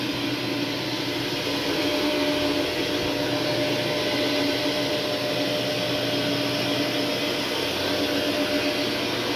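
A carpet cleaning extraction machine roars continuously and loudly nearby during a pet-urine carpet restoration in a hallway, a steady unbroken suction hiss with a faint mid-pitched whine and no talk.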